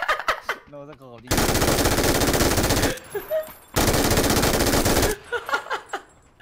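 Rapid PUBG gunfire rips out in two long dense automatic bursts, loud and close, with scattered quieter shots and clicks between and after them; no talk.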